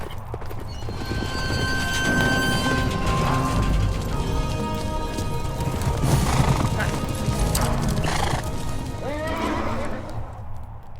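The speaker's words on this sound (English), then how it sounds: "Several officers jump off their horses and run into the streets." Horses neighing and whinnying with clip-clopping hooves on city streets in a radio drama scene, a busy, loud and continuous mix with soldiers nearby and faint voices underneath.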